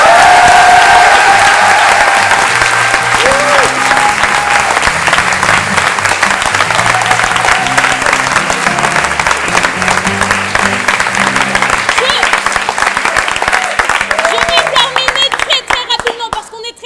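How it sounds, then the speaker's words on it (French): An improv theatre audience at a Paris improvisation festival claps loudly and steadily for the full stretch, a dense, sustained wash of hands with voices mixed in. "applaudissez maintenant."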